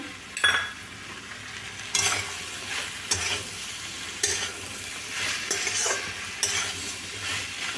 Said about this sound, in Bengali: কাজুগুলো দিয়ে ভালো করে নেড়ে গ্যাসের ফ্লেমটাকে কম করে দিয়ে